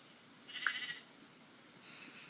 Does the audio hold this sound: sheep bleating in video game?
yes